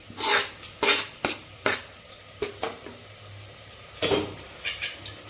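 Onions going into lightly heated oil for mutton biryani, with sharp metal clinks of a utensil against the pan and scraping stirs over a soft sizzle, close up, no talking.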